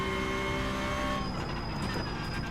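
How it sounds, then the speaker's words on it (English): Porsche race car engine in the iRacing sim on a bumpy street course, a steady, loud droning roar with sustained tonal whine that shifts pitch partway through, continuous throughout. "the Porsche sounds really, really different than the old Cup car"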